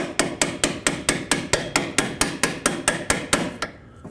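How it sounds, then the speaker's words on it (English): A small brass hammer taps strut bolts out on a 2002-06 Toyota Camry rear strut assembly, about fifteen sharp, evenly spaced metallic strikes at a steady brisk rhythm, close and loud with no talking. "With a small hammer, I'm going to tap these bolts out."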